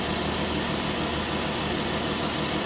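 A Ram 1500 pickup truck engine idles with its air conditioning running, a steady, even rumble and whir held close and constant with no voices.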